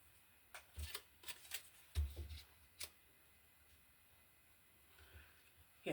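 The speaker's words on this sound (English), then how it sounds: "Just rip off the edge so that it's not so straight." Thin card being torn at the edge by hand for junk journal ephemera, giving a few short, close papery rips and crackles in quick bursts, separated by quieter pauses.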